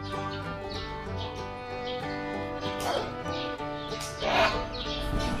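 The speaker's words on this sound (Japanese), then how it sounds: "鳥が結構多いですね" At a crocodile park and zoo in Davao, Philippines, birds call repeatedly in short bursts near and far, clucking and squawking over a busy background.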